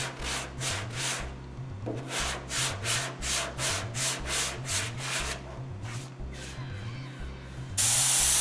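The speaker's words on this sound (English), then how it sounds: "I block sanded it to shape and smooth it." Wood is block sanded by hand to shape and smooth it, each stroke a rhythmic rasping hiss repeating back and forth up close, ending in a sudden brighter hiss.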